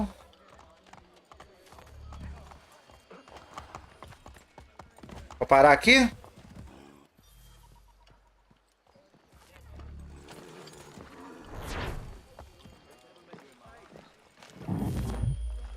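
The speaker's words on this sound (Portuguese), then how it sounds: "Andando de cavalo por enquanto." Horse hooves clip-clop in the Assassin's Creed III video game, set during the American Revolution, with a few bursts of louder trotting under someone talking in Portuguese throughout.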